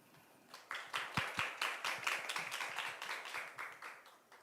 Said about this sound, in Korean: 우리 모두 큰 박수로 맞아주시면 감사하겠습니다